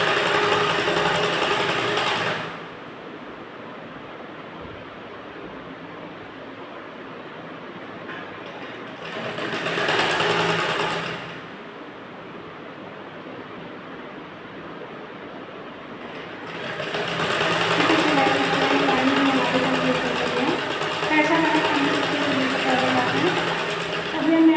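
A sewing machine stitches blouse fabric for a round katori-style blouse, running in three loud, steady bursts with quieter pauses between them.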